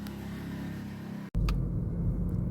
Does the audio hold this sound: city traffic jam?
yes